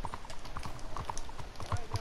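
Horse hooves clip-clopping at a steady gait in the Red Dead Redemption 2 video game, close and rhythmic, with faint talk in the background.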